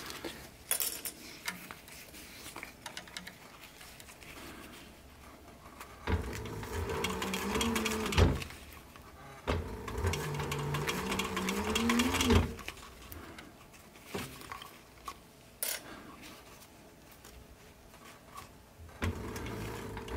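A cylinder arm sewing machine stitches through plastic on a sun visor, running in several intermittent bursts of moderate loudness separated by quieter pauses with handling clatter, close by and without talk.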